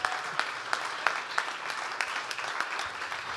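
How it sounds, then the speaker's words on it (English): A room of guests at a celebration of Joan Beckow applauds the emcee Katie Morley. The clapping is steady and moderately loud, with a few sharp, close claps standing out above the crowd. "And a round of applause for Katie Morley,"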